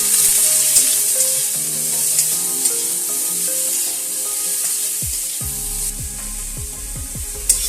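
Turmeric and salt stir-fried in a pan sizzle steadily and loudly, with a spatula scraping and clinking against the metal throughout.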